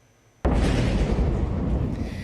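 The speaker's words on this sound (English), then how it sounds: "An explosion and smoke rising from a border village in South Lebanon." An explosion at a border village in South Lebanon, amid clashes, erupts suddenly from near silence into a loud, sustained roaring rumble that keeps churning heavily for about two seconds without fading.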